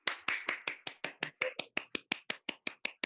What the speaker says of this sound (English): Give me a round of the applause.